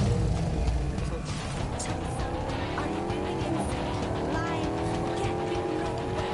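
Car driving in a video game: a steady engine drone, rising in pitch, runs under tire squeal, with a voice speaking over it.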